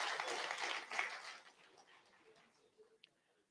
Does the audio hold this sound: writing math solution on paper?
no